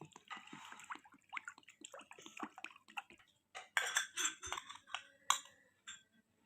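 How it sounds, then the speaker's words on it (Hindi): Water is poured into a bowl of beef marinating with vinegar, lemon juice and crushed garlic for beef tikka, giving short wet splashes and clinks of a utensil against the bowl, close and fairly quiet, with no one talking. "अब हम इसमें पानी ऐड कर रहे हैं जी।"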